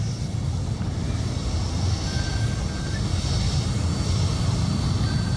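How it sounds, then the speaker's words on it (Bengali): A Tianjin Air Cargo airliner taxiing toward the runway gives a steady, droning engine rumble with a faint high whine, holding at an even level throughout. "এই বিমানটি এখন ট্যাক্সিওয়ে হয়ে রানওয়ের দিকে যাচ্ছে"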